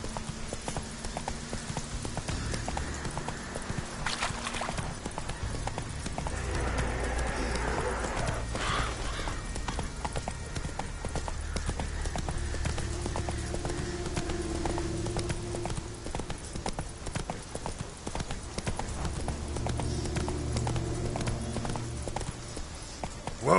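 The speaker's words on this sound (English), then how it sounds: "Whoa there, Roach" Horse hooves clip-clopping steadily at a gallop in The Witcher 3 on PS4, continuous and fairly close, with a brief whinny and some game sounds mixed in.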